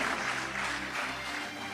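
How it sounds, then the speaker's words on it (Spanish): A church congregation applauds in a continuous, fairly soft wash of many hands clapping, heard from some distance and sustained evenly throughout without speech over it. "le damos un fuerte aplauso"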